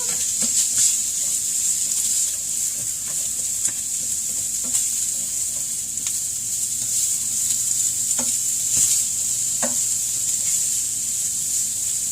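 Food mixture simmering and cooking down in a pan for keto meal prep, a steady close sizzle with a few stirring scrapes and clicks scattered through it, no voices.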